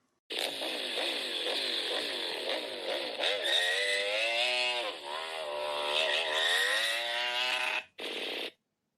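A cartoon motorbike engine drones loudly and steadily, its pitch wavering up and down as it rides, then cuts off abruptly near the end after a short burst.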